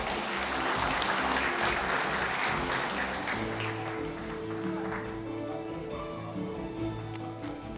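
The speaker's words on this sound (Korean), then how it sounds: "큰 박수 부탁드리겠습니다." An audience at a candidate debate hosted by a county sports council applauds an education official, broad sustained clapping that fills the room and slowly thins, with faint voices underneath toward the end.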